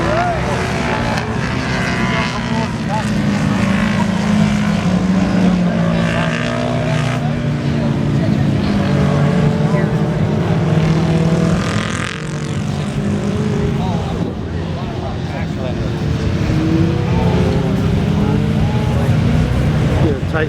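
Vintage racing motorcycles at Mid Ohio, several engines roaring and whining as they rise and fall in pitch, loud and continuous, with a voice talking over them.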